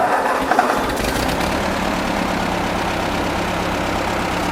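A Ford tractor engine from an amphibious build runs in high range, still poorly tuned, a loud, steady close rumble that catches and settles into a continuous drone after a brief start, with no talking.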